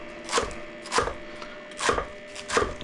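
Knife chopping cucumber and romaine lettuce on a cutting board, four distinct chops spaced about half a second to a second apart, crisp and close with quiet pauses between.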